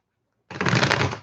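A deck of tarot cards is riffle-shuffled in one continuous, fairly loud burst of rapid fluttering clicks lasting under a second, after a moment of silence.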